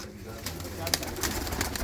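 Spotted pigeons coo in low, rolling calls nearby, mixed with brief clicks and rustling, while a voice is heard over them.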